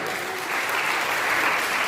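An audience at a poetry gathering (kavi sammelan) applauds in a dense, steady burst of clapping that stays loud and close throughout.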